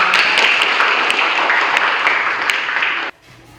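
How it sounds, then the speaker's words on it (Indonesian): Audience applause in a biology classroom lesson, a dense steady patter of many hands clapping at moderate loudness, sustained for about three seconds and then cutting off abruptly into quiet room tone. "Kita berikan aplaus dulu"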